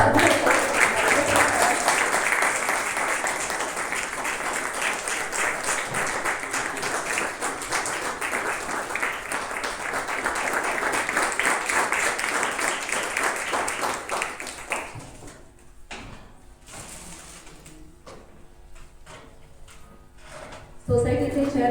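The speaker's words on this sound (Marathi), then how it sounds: "टाळ्या तुमच्या अशा चालू" A crowd at a welcome ceremony for a solar energy project claps steadily and densely for about fifteen seconds, then the applause thins to scattered claps and room sounds.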